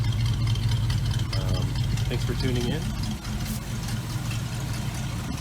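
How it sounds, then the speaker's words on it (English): A 1985 Dodge Ramcharger engine idles with a steady low rumble throughout, close and continuous, while someone talks over it. "wanted to show you what it sounds like idling."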